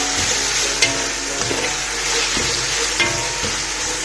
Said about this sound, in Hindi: अब हम इसे मिक्स कर लेंगे, चला लेंगे।